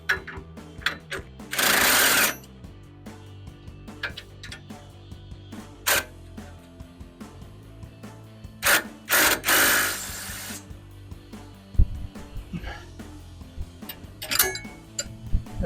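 Power tool tightening a bolt from underneath on a Bilstein B8 5100 front shock of a Silverado 1500, loud short bursts of whirring spin separated by pauses, with clanks and handling noise between.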